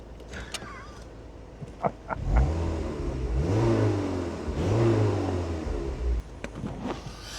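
A Mazda MX-5 engine rises in pitch as it revs, holds, then revs again, close and fairly loud, with a few clicks before and after.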